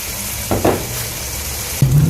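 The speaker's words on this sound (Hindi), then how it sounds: "अब इसके अंदर हम तकरीबन 1/2 कप इसके अंदर क्रीम का डालेंगे और फ्लेम को बिल्कुल लो कर देंगे" Chicken karahi cooking with cream over a low flame, a continuous sizzle broken by two brief spoon scrapes and bumps against the pan, heard up close with no voices.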